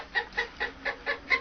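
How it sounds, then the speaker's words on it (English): Chicken clucking sound from a novelty Steinway grandfather-style clock: six evenly spaced, bright clucks in a quick, regular rhythm, close and clear with no talking. "what's this, a chicken."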